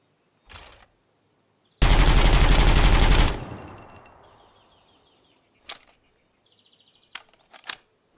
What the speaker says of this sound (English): We're going trap shooting with an M4.